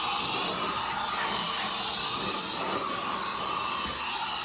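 A strong electric air duster blasts a continuous loud hiss of air into the base of a 3D printer to clear out junk, a steady roaring rush that lasts throughout.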